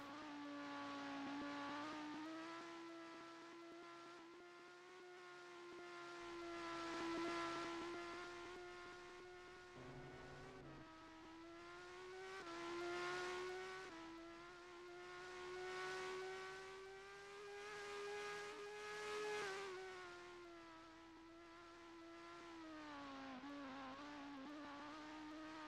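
Race car engine in a sim racing game during Italy qualifying, a droning whine that rises and falls with a gear change partway through. It sounds fairly quiet and steady, with no voices.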